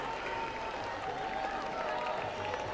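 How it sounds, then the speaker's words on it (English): A large crowd at Perth Hockey Stadium applauds India's goal in a Kookaburras versus India hockey match. The clapping and cheering form a steady, even wash of sound at a distance. "Big crowd reaction."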